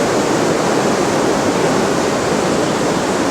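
Muddy, spring-swollen river in Sarajevo rushing past in a steady, loud broadband wash of flowing water, continuous and close with no pauses or voices.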